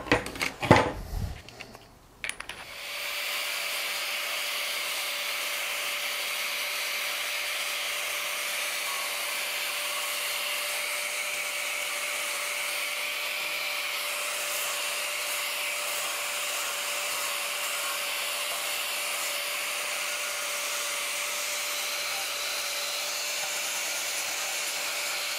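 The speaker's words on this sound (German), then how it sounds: "Dann werde ich das Ganze nochmal schleifen" A multi-tool used as a sander sands a workpiece. After a few handling clatters it runs as a steady, high whining drone with a constant tone, unbroken and fairly close for over twenty seconds.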